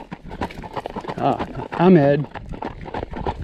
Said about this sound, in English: This is my walking horse, Stallion, way back when.